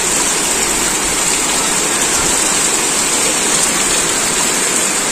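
Heavy rain at home, a dense, loud, unbroken hiss of downpour that holds steady throughout with no voices.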